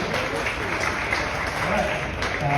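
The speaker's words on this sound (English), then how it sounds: "Can we give her a round of applause?" Applause from the audience at a Solana demo day presentation in London, a fairly steady wash of clapping throughout with voices mixed in.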